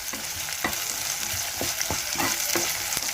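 Onion and vegetables fry in oil in a pan, a steady crackling sizzle broken by several sharp scraping stirs of a spoon at irregular intervals, with no talking.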